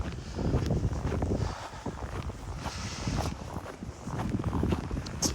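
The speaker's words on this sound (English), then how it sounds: "the wind just blowing that snow up there, like just swirling around in the buildings." Gusty wind roars through a winter snowstorm among buildings, a loud, buffeting rush against the microphone that rises and falls throughout, with crunching footsteps along a path underneath.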